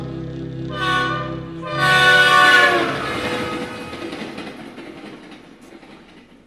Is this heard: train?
yes